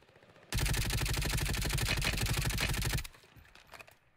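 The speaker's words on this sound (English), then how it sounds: "look how much gunfire is going on" Heavy automatic gunfire in the Warzone battle royale video game, a dense, loud, continuous burst of rapid shots lasting about two and a half seconds before cutting off into quieter, scattered game noise.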